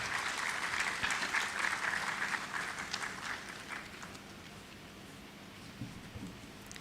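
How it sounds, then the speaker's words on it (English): An audience at a Ghana higher education summit gives warm applause to welcome a professor to the stage, starting full and loud and then gradually thinning and fading toward the end. "Please let's welcome her with a warm round of applause"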